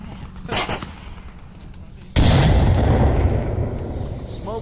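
Frag grenades go off in an Onward VR firefight: a few sharp shots early, then a heavy, loud blast that rumbles and decays over several seconds.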